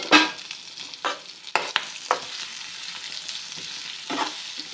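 Turmeric and salt frying in a pan for green chilli masala, a low steady sizzle broken by several sharp scraping stirs of a spoon, close and moderately loud, with no talk.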